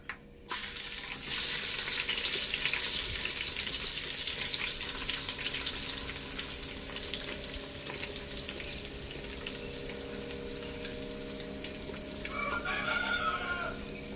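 Steady, loud sizzling of finely chopped onions frying in hot oil for Mangalore-style chicken gravy, with a rooster crowing somewhere in the background near the end.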